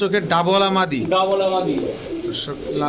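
Pigeons coo in a loft of fancy breeds for sale, the rolling calls repeating up close with someone talking over them.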